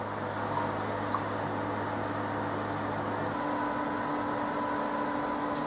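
A pump circulates boiled Dunkelweizen wort through a counterflow chiller during a home brew night, giving a steady electric hum and tonal whine with constant liquid rush, loud and unbroken throughout.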